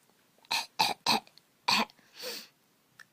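A string of harsh coughs, four sharp bursts in quick succession followed by a softer, breathy one, close and loud with no talking.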